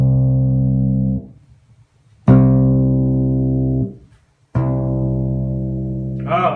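Three sustained low bass notes on a harpejji, each ringing with rich harmonics for over a second, separated by brief silences; a faint higher tone creeps in at the very end.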